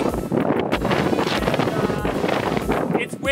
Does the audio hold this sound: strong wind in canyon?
yes